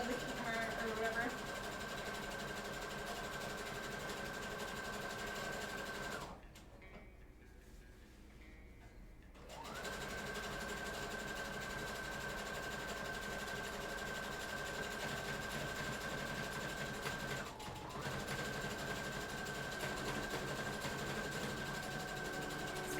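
A sewing machine runs nearly continuously while stitching a KDA Ahri cosplay costume from League of Legends, a steady close mechanical hum that stops for a few seconds before starting up again.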